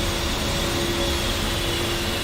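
A jet engine spooling down during shutdown on the ground in DCS World, a loud steady whine and broadband roar with a sustained tone, continuous with no talk.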